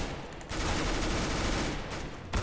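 Rapid automatic gunfire in Counter-Strike: Global Offensive, a loud dense burst of shots running almost continuously for two seconds with a brief gap at the start and a sharp report at the end.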